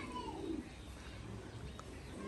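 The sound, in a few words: racing pigeons cooing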